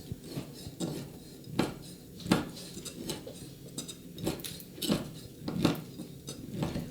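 A knife chops cacao butter into fine strips on a board, with sharp repeated taps in an irregular rhythm, close and clear with no talk.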